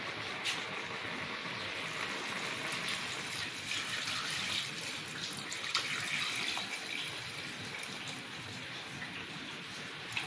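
Tap water runs steadily into a pot of beans with seasoning, a continuous splashing gush at moderate level throughout, with no talk.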